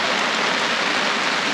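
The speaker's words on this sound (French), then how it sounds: "La pluie qui tombe sur un toit de tôle. Pas bien bon pour un feu" Steady heavy rain drumming on a sheet-metal roof at a campsite, a dense continuous hiss with no pauses, loud and close, with no voices.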